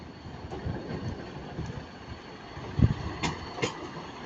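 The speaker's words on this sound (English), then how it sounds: "Class 150 leaving." A Class 150 diesel train pulls out of Manchester Piccadilly, a faint rumble with soft wheel clatter and a couple of sharp knocks and squeaks as it moves off.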